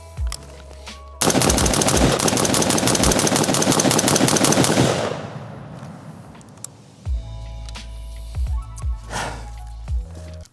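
A JAKL .308 rifle fires a rapid string of loud, close shots as the magazine is emptied in about four seconds, followed by a few scattered thumps and handling noises.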